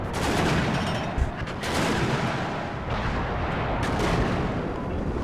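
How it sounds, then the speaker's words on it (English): Artillery fire in the Cold War strategy game Warno: a dense, continuous roar of distant booms and rumbling impacts that overlap without pause, loud throughout with brief dips. "Look at all the artillery coming in here"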